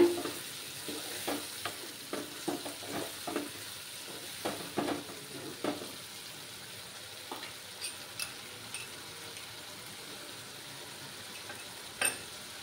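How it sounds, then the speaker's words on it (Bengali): Spices are stir-fried in hot oil in a pan for a coconut milk fish curry: a low, steady sizzle with repeated close scrapes and clicks of a spoon, busier early on and then sparser, with no talking. "মশলাগুলো ভালোভাবে কষাতে হবে।"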